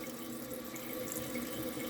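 A toilet tank refilling after a flush during a leaking-toilet repair: a steady, moderately quiet hiss of rushing water that runs unbroken throughout.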